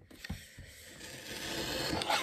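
A paper trimmer blade slices through thick cardstock, giving a faint, dry scraping rub that builds steadily over about two seconds and ends with a slightly louder rasp.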